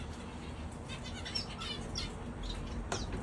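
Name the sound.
zebra finch and society finch fledglings chirping in aviary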